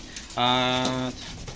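A single close coo from a racing pigeon just returned to its loft, a steady tonal call lasting under a second against a quiet background.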